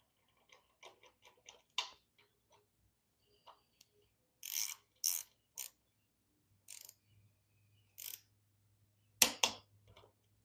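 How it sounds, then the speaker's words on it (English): A torque wrench tightening bolts on a model drivetrain gives faint ratcheting ticks, then a few sharper clicks spaced out, close and quiet against near silence. "So I've got my torque wrench set for that. Go ahead and tighten it down here."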